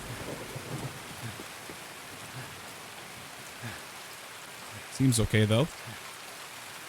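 Steady rain in Escape from Tarkov, a broad continuous hiss with faint distant rumble beneath it, interrupted near the end by a short spoken remark.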